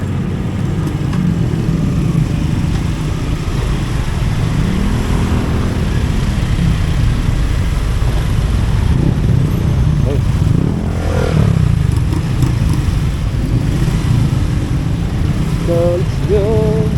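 Steady stream of motorcycle traffic moving fast along a road behind the airport, a continuous loud engine drone with passing revs, heard close from a rider in the flow.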